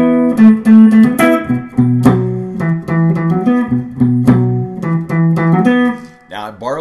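Blues guitar lesson riff with root notes and power chords moving down to the four chord, close and loud with strummed chord hits and bending accents, played alone without talk.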